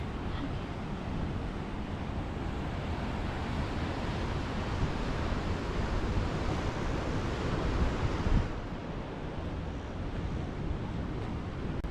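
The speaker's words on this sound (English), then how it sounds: "I just love that rugged coastline, and you can really feel the power of the ocean over here." Ocean waves break against the rugged coastline at North Gorge on North Stradbroke Island, a steady, loud wash of surf and wind noise with no pauses.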